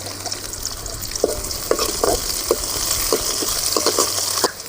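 Three-quarters of a cup of chopped onion fries in a pan after mustard seeds have popped, giving a steady loud sizzle broken by scattered spoon-stirring clicks and scrapes, with no talk.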